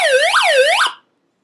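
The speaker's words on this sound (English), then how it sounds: "Can mess with this little siren thing here on the top." An emergency prepper radio's small built-in siren sounds loud and close, a rising-and-falling electronic wail cycling about twice before cutting off abruptly into silence.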